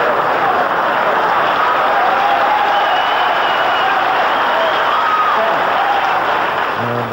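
A capacity crowd at a snooker match in Goffs applauds loudly and continuously, a dense, steady wash of clapping that fills the whole stretch, with a faint voice briefly underneath.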